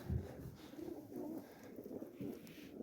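Pigeons coo in low, rolling bursts, several overlapping calls repeating steadily at close range with no talk over them.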